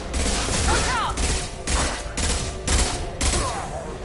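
Weapon fire in the Mass Effect video game: dense, loud bursts of shots and booms arrive in repeated waves of rapid gunfire, with a voice speaking under the clatter.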